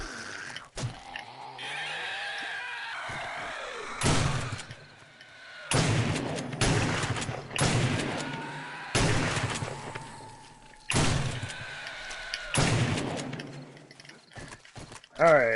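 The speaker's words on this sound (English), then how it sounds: "Need my exploding crossbow bolts." Exploding crossbow bolts in 7 Days to Die fire and detonate as a series of sharp, booming bursts spaced a second or two apart, mid-loud and close over game ambience.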